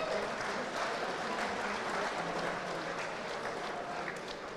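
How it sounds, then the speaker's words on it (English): A large banquet crowd of several hundred at a speedway awards ceremony gives a soft, sustained round of applause, a distant, even wash of clapping that fades slightly toward the end. "Give yourselves a round of applause for the attendance alone."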